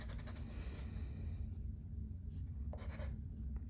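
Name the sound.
writing a Z letter by hand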